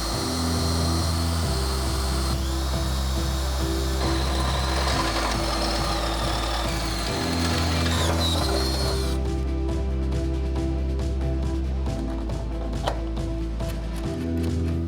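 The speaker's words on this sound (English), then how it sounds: "All right, so let's drill some holes." A power drill whirs steadily in several long bursts while drilling holes in a 2007 Saris trailer, briefly stopping and restarting, loud and close, with a constant mechanical hum underneath.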